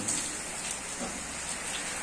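Steady rain falls in a continuous hiss, with a fine patter of drops on a surface and no voices.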